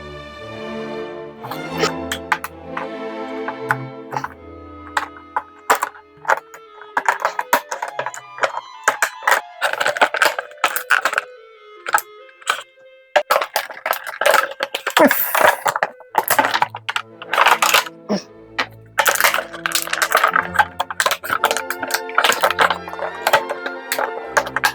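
Marvel Legends Kingpin retro collection figure being freed from its plastic packaging, a close run of sharp crinkles, clicks and crackling snaps of stiff plastic coming in irregular bursts with short pauses and no talking.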